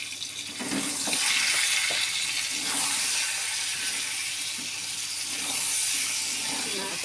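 Red chili paste frying in a pan with pointed gourd nearby, giving a steady broadband hiss like running water, with a few soft stirring scrapes throughout.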